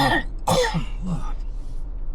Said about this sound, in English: I've got a cough coming.